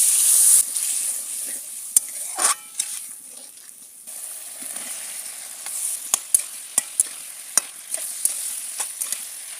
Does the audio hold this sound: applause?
no